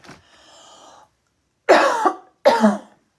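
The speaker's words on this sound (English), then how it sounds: "Oh, I'm coughing so much." A faint wheezy breath followed by two harsh, close coughs in quick succession.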